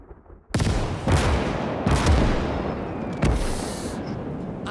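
Gunfire in OstFront during a German campaign battle, several loud close reports about a second apart, each cracking sharply and then ringing out in a heavy echoing tail.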